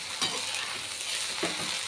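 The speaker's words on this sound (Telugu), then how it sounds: "అంతా ఇలా కలుపుకొని ఇదంతా బాగా ఫ్రై అయ్యేలాగా ఫ్రై చేద్దాం" Chicken fried rice frying on a high flame, a steady loud sizzle with two distinct stirring scrapes of the spatula against the pan, no voices.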